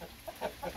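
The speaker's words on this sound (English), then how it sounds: "What you doing, chickens?" Chickens sheltering from rain under a porch give a few short soft clucks, faint and close, with steady background noise between calls.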